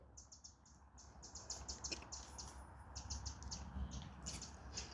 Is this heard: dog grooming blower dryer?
no